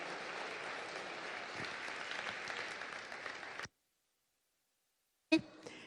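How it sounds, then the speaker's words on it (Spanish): Welcoming applause at a church anniversary celebration, steady and fairly distant, running for several seconds before cutting to silence; a brief bump of sound returns near the end. "les damos un fuerte aplauso de bienvenida"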